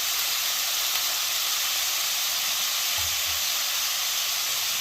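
Steak sizzles in a skillet with a loud, dense, steady hiss that continues unbroken from start to end, close by with no voices.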